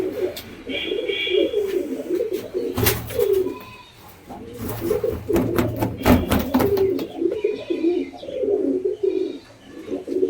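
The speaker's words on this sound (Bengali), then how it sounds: "সুন্দর কোয়ালিটি কালপেটিয়া জোড়া এক জোড়া গিরিবাজ পায়রা রয়েছে" A pair of Giribaz pigeons of the Kalpetia type, one male and one female, coo close by in soft, repeated throaty phrases with short pauses and a few brief rustles between them.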